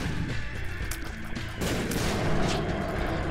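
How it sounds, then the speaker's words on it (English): Bombs detonating in The Binding of Isaac during a boss fight, a rapid string of sharp bursts and booms layered over dense game sound, loud and close. "Dropping the bombs near him to hit him and his flies."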